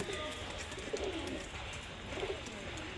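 A pair of Bagha pigeons coos softly in a low, rolling rhythm, with a couple of fuller calls rising and falling over a steady background hiss.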